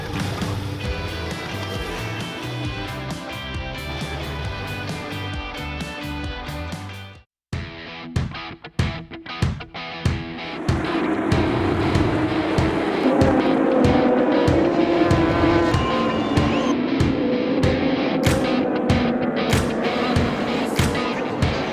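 Racing motorcycles roar around the Circuit du Castellet during the Bol d'Or endurance event, engines revving and passing in repeated loud bursts after a brief pause, with music audible underneath.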